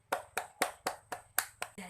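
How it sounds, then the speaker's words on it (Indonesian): Hands clap for a pupil in a primary school maths lesson, about eight crisp, evenly spaced claps in quick succession, close and clear with no talk over them. "Yuk kita beri tepuk tangan untuk Nilam."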